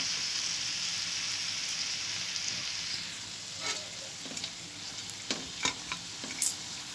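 Pork gisa being stirred with seasoning in a pan, giving a steady soft sizzle with scattered scraping and clicking touches of the spoon growing more frequent toward the end.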